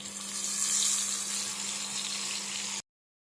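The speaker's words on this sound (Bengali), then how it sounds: "তো এখন আমি ওই যে পেস্টটা বানিয়েছিলাম সর্ষে দিয়ে টক দিয়ে ওই পেস্টটা ঢেলে দেবো।" Mustard and sour paste poured into hot oil gives a moderate, steady sizzling hiss with a low hum beneath, cutting off abruptly near the end.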